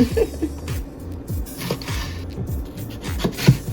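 A knife chops food into cubes on a cutting board, a quick run of close, rhythmic knocks and soft scrapes, about a dozen cuts with no talk.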